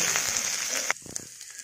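Chopped ginger dropped into hot oil in a frying pan for a broad bean curry, a bright steady sizzle that drops off sharply partway, leaving a few faint crackles and pops.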